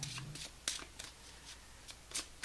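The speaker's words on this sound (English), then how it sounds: "One more shuffle off the top of the deck." A tarot deck is shuffled by hand in several quick, crisp riffling bursts separated by short pauses, close and fairly quiet.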